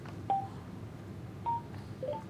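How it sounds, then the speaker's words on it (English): Short electronic beeps from a UCS Lite motorcycle headset signalling a Bluetooth intercom connection: three faint tones spaced apart over a quiet background hum. "This is the sound you'll hear when you are in Bluetooth intercom."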